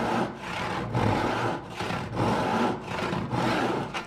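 A hand saw cuts through the wooden board of a shop shelf in steady, rhythmic strokes, about six rasping back-and-forth passes heard close and loud with no talk.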